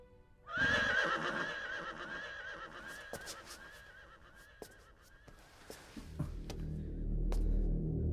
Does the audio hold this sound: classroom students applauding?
no